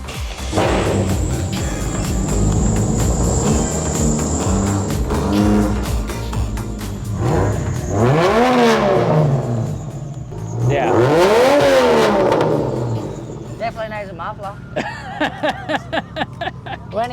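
A loud, modified turbocharged Barra-engined Toyota 80 Series Land Cruiser engine barks to life and revs repeatedly in sharp rising bursts, then settles into a choppy, lumpy idle, with voices mixed in.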